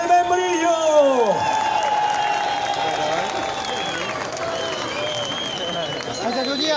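A crowd at the Fogata del Pescador festival in El Membrillo applauds and cheers the local fishermen, a sustained wash of clapping and voices under a band's music and amplified speech.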